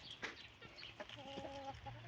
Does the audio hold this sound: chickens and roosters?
yes